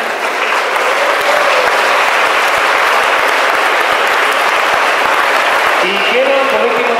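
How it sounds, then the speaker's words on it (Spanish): A school audience at a prototype awards ceremony claps loudly and continuously, a dense, even roar of applause, with a voice starting to speak over it near the end. "También un aplauso para ellos"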